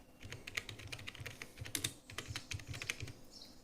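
A computer keyboard clatters as someone types a short description into an online form, giving quick, irregular bursts of keystrokes that are close but quiet, with no talking.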